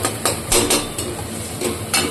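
A spoon stirs spice paste in hot oil in a kadai over a low flame, giving a run of repeated scraping strokes against the metal pan at a steady, fairly close, moderate level.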